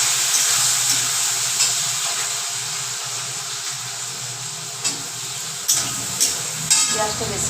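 Chopped onions hit hot oil already seasoned with whole cumin and bay leaf, giving a steady, close sizzle with a few sharp utensil clinks and stirring scrapes toward the end.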